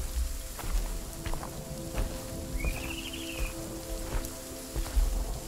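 Rain patters steadily in the horror game Visage, a soft continuous wash with scattered drop ticks and faint footsteps, plus a brief high whistling tone partway through.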